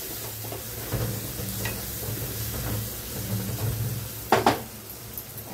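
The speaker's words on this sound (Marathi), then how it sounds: "थोडंसं परतून घेऊया" Greens and spices with turmeric stirred in a hot pan, a soft steady sizzle with scraping stir strokes and a couple of sharper utensil knocks near the end, close by with no speech.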